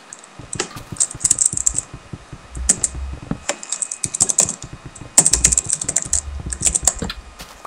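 Rapid, busy typing on a computer keyboard during a Minecraft-style building game, with dense clusters of sharp key clicks coming in uneven bursts and a few louder thumps, close and alone without talk.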